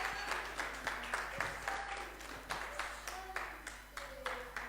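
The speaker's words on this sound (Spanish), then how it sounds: "Denle un aplauso fuerte a Jesús." A church congregation claps for Jesus in a lively round of applause, many hands clapping in uneven bursts with some rhythmic patter, moderately distant and reverberant.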